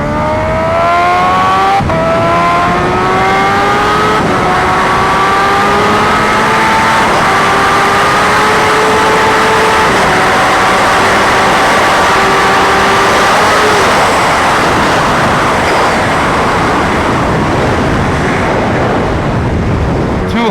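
Kawasaki Ninja H2R supercharged motorcycle accelerating at full power on a slow roll from first gear, a loud continuous engine howl climbing in pitch through several gear changes over roughly thirteen seconds, then giving way to steady roaring wind rush.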